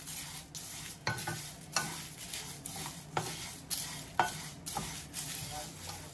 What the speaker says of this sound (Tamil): இப்போ இதெல்லாம் ஒன்றா பேலன்ஸாக வறுத்து வந்துடும்.